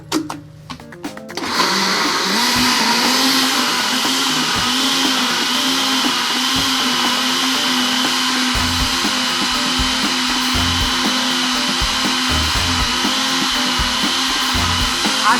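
A kitchen blender whirs steadily while mixing carrot cake batter in its jar, a loud continuous motor drone starting after a brief pause and holding at constant pitch close by.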